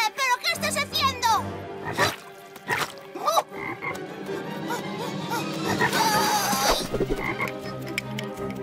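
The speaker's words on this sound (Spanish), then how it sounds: "¡Ranas!" Frogs croaking at a pond in a children's cartoon, loud repeated croaks mixed with character voices, music and busy animated sound effects.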